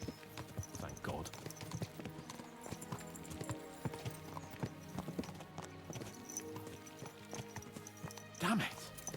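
Horses in the medieval video game Kingdom Come: Deliverance 2 move with steady rhythmic hoofbeats, a soft clip-clop under quiet game ambience, with a brief louder snort or whinny near the end.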